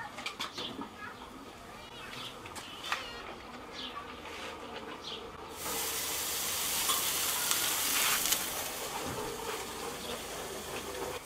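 A bacon-wrapped pork loin stuffed with spinach and cream cheese sizzles over a braai grill. A crackling hiss carries scattered pops and buzzing bits, then grows into a louder, brighter sizzle about halfway through and holds steady.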